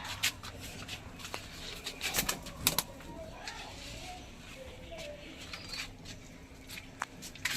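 Tournament racing pigeons placed on a stand give a few quick bursts of wing flapping and shuffling, close but fairly quiet, with soft movement noises between them.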